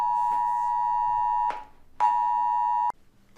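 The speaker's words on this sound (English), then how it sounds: "you can't mute your phone to prevent it from doing emergency alerts" A phone's emergency alert tone for a flash flood watch blares in two loud, steady electronic beeps, the first about 1.5 seconds long and the second about a second, with a short gap between them.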